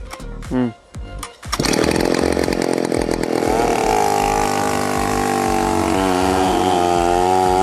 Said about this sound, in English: He's handling a chainsaw that weighs nearly as much as a small child, slicing through massive rounds of wood.